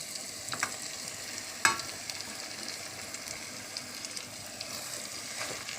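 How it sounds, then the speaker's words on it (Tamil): Mushrooms are stirred and fried in a pan with softened onion and tomato for a mushroom biryani, giving a soft steady sizzle with occasional scrapes and clinks of a spoon, no voices. "காளானை சேர்த்து நல்லா கிளறி விட்டு"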